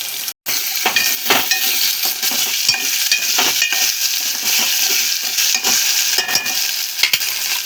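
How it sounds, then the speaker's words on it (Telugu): Potatoes frying in oil in a pan for a broad bean and potato curry: a steady close sizzle with scraping stirring strokes and light utensil clinks throughout. "ఆలుగడ్డలు కొంచెం ఆయిల్లో ఫ్రై అయిన తర్వాత చిక్కుడుకాయలు అయితే వేసుకుంటాము."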